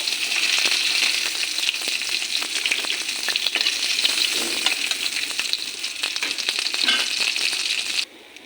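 Fish pieces for chilli fish fry in a pan with a steady, loud, crackling sizzle that runs unbroken for about eight seconds, with occasional stirring scrapes, then cuts off abruptly near the end.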